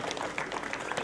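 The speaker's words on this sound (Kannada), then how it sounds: "ಹಾಗಾಗಿ ಎಲ್ಲರೂ ಜೋರಾದ ಚಪ್ಪಾಳೆ ತಟ್ಟಬೇಕು" Applause from an audience at a Koppal district police training school ceremony: a dense, steady wash of clapping that holds at an even level for the whole second, with no single claps standing out.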